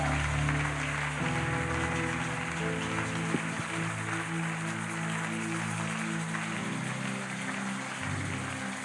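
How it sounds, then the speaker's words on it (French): A church congregation stands and cheers loudly, a broad wash of clapping and shouting that fills the space steadily throughout, with music underneath. "Mets-toi debout et acclame très fort le roi gloire."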